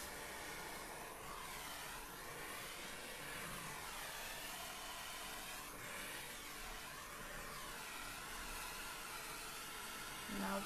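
A heat gun blows a steady, loud hissing rush of air over poured acrylic paint on canvas, a continuous broadband whoosh that slowly swells and fades as it moves.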